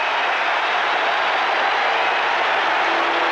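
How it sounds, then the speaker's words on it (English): Boston Red Sox fans at Fenway Park during the 1978 one-game playoff against the Yankees, a steady dense roar of crowd cheering and applause filling the whole stretch with no break. "These Boston Red Sox fans on their feet, and they've got something to cheer about"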